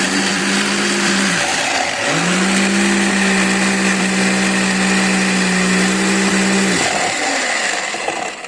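A blender whirs loudly and steadily, blending a spicy fish marinade for tilapia, with the motor briefly dipping and restarting twice before running on.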